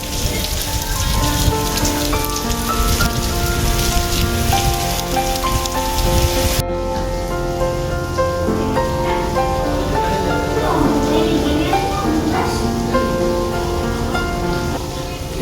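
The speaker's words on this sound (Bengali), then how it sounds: "বাইরে এখনো জোর বৃষ্টি পড়ছে।" Heavy rain pours outside a tourist lodge, a dense, constant hiss and patter on surfaces that holds steady and loud throughout, heard from indoors in the lodge restaurant.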